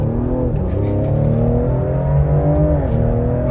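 A car engine revs up hard and loud through its gears, a strong rising roar close to the listener that swells steadily with no talk over it.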